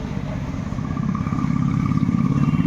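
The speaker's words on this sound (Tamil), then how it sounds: "இன்ஜின் எப்படி இருக்குன்னு சொல்லி ஸ்டார்ட் பண்ணி காட்டுறேன்." A restored 1987 Royal Enfield Bullet engine running close by after starting, a loud low thumping idle that grows slightly stronger, with no talking over it.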